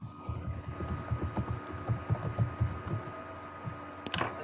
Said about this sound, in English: We hear the typing